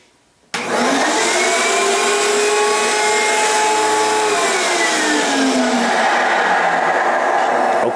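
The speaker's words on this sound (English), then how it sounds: "if we close it and turn on the vacuum" A vacuum-top screen-printing exposure unit switches on with a sudden, loud, steady whooshing roar as it vacuums down a screen and film positive, continuing unbroken for several seconds after a brief quiet start.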